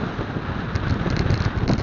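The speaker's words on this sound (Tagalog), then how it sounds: "Hangin." Steady outdoor wind buffeting a microphone, a constant low rumbling roar with gusty surges, with no voices, in Bongabon, Aurora, Philippines.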